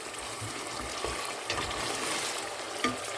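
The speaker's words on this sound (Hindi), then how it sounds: "ये गोश्त अभी फ्राई हो गया है" Meat sizzles and fries in a pan in a home kitchen, a steady close crackle with occasional stirring scrapes and spatter pops, no voice over it.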